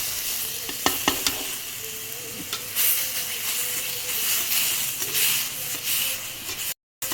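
Ground spice paste frying with taro in a pan for kochur dal, a steady close sizzle and hiss with scraping stirs and a brief drop to silence near the end.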